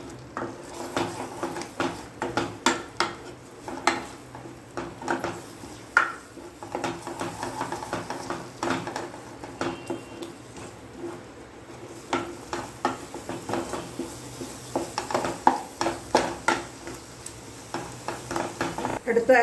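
Egg for an egg cheese pasta stirred and frying in a pan, with a steady sizzle under repeated scraping and clinks of a utensil against the metal, close and moderately loud throughout.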